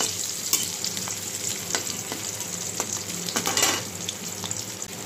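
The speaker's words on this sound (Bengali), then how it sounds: "পেঁয়াজটা আমি হালকা একটু ভেজে নেব।" Onion and bay leaf fry in oil in a pan for a fish curry, giving a close, steady sizzle broken by several sharp scraping stirs, with a louder burst of stirring near the end.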